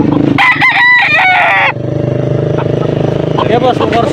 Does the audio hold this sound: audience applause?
no